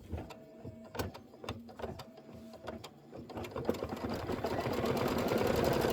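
A sewing machine stitches a tack-down line on a quilted block for a Kimberbell bench pillow. It starts with a few separate stitching pulses and builds into a dense, fast, continuous whir that grows louder toward the end.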